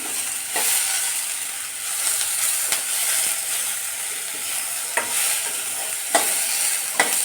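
Tomato frying in a pan for egg curry, a steady close sizzle with occasional sharp spatula scrapes and taps against the pan.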